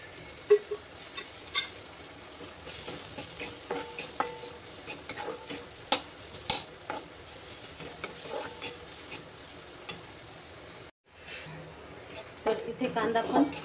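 Two small chopped onions fry in a pan with a soft, steady sizzle and occasional stirring clicks, fairly faint, while a person talks over it.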